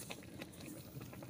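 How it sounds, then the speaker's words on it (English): Liver and tripe pepper soup with onions boils in a pot, a faint, soft bubbling and gurgling simmer heard close but quiet, with no talking. "All right, so the pepper soup is boiling."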